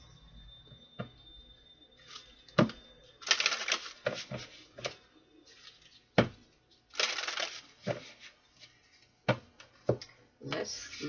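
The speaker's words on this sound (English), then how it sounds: "Let's shuffle these." Oracle cards (Dark Mirror oracle deck) being shuffled by hand in uneven bursts of papery rustling and soft taps, close by, with quiet pauses between handfuls.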